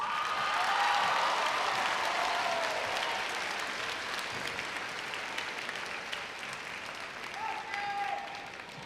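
A high school graduation crowd gives sustained applause for the class of 2026 valedictorian, a thick, roaring wash of clapping with scattered cheers and whoops, and a voice speaking faintly beneath it.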